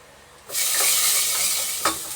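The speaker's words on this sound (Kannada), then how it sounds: "ಫ್ರೈ ಆಗ್ತಾ ಇದೆ." Cumin seeds and a couple of cloves hit hot oil in a pan and burst into a loud, steady sizzle, with a brief stir or clink near the end.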